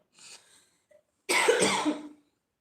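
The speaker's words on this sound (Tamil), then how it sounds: "எனக்கு வந்து ரொம்ப இருமல் இருக்குது" A short faint throat sound, then one loud, harsh burst of coughing lasting about a second, close and alone.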